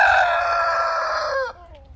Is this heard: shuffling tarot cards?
no